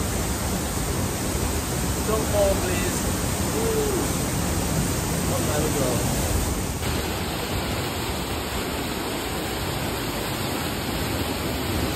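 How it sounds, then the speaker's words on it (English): A loud waterfall in Seven Ladders Canyon near Brasov, Romania, roars as a constant close-up wash that swamps everything else, while a person speaks briefly beneath the noise. "The water is so loud."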